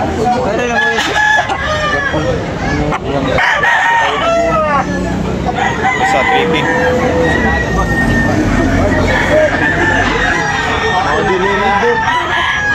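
Fighting roosters crow loudly and repeatedly amid a crowded sale area, their long calls overlapping with clucking and a dense babble of voices throughout.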